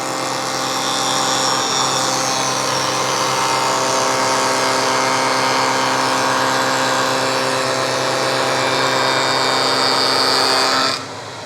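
A hoover running through a cyclone dust collector separator roars continuously with a steady motor whine and rushing air, loud and unchanging until it cuts off sharply near the end.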